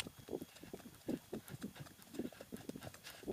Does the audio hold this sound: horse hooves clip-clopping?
yes